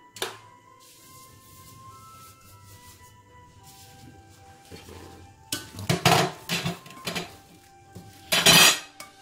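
Pot of tortelloni with shrimps opened and stirred on a stovetop: a quiet simmer, then loud clattering of a lid and spoon scraping against the metal pot in bursts, ending in one sharp clang.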